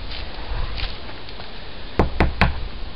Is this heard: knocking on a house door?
yes